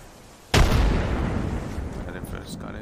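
Grenade blast in the video game Apex Legends, one sudden loud explosion followed by a long rumbling decay with faint game sounds trailing after.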